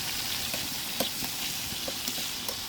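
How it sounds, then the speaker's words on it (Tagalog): Ginger frying in a pan, a continuous close sizzle with faint crackles and soft stirring taps, no talking. "Iprito muna natin ito. Lalagyan natin ng luya"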